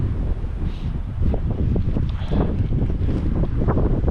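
Strong wind buffets the microphone on open water during a pike fishing trip aboard a boat, a steady loud rushing roar with gusty swells throughout and no voices.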